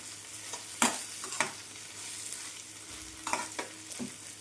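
Spices, turmeric and coriander being stirred into a frying tomato chutney mix with onions. A soft, steady sizzle runs throughout, broken by a few sharp scraping stirs.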